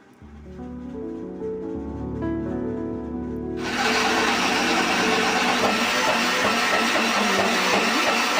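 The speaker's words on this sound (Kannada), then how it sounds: "ನೀರನ್ನು ಸೇರಿಸ್ಕೊಂಡು ರುಬ್ಕೊಳ್ಳೋಣ" A grinder works soaked rice with water into dosa batter for Davangere benne dosa: a humming motor builds, then a loud, steady, wet grinding roar takes over and continues to the end.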